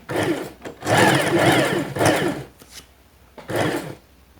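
A portable sewing machine stitches a buttonhole, running in four short bursts of whirring mechanical stitching separated by brief pauses, close and moderately loud.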